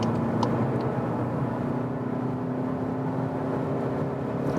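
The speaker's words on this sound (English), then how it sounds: "Let's floor it out." Diesel VW Passat accelerating under full throttle, a steady droning engine whine and road roar heard from inside the cabin, moderately quiet with a rising tonal hum.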